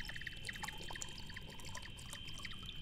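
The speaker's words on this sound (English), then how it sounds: "I'm gonna drink some water" Water is poured for drinking in a faint, thin trickle that runs quietly and continuously, with a steady high tone and scattered soft clicks in the background.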